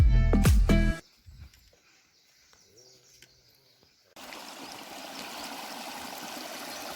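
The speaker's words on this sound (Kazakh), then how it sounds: "Тау өзені ағып жатыр." A mountain river in a gorge near Medeu rushes steadily as a broad, constant hiss that fills the last few seconds. It follows a loud opening burst and a quieter stretch with faint sounds.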